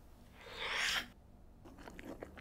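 Close, wet crunching and chewing of an oyster served with champagne mignonette sauce, a burst of mouth noise lasting under a second followed by softer smacking and chewing sounds.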